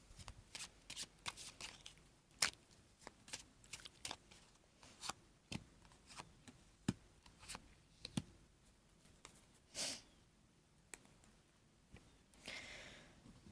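A full tarot deck is shuffled by hand in a quiet room, making repeated crisp riffling and flicking card sounds in irregular bursts, close and fairly soft.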